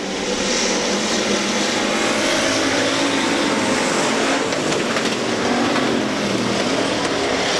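Loud, steady roar of factory stock race cars in a feature race at Heart O' Texas, droning past continuously with a dense, sustained mechanical whine and no pauses.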